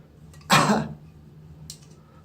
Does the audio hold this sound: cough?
yes